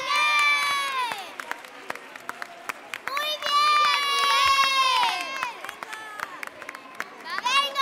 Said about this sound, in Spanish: Venga, un aplauso para él.